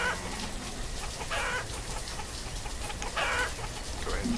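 Chickens clucking in the village-building game Banished, with short bursts of fowl calls repeating over a steady game ambience backdrop.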